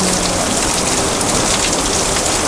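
Heavy rain mixed with hail pours down in a loud, dense, unbroken roar, with no pauses or voices.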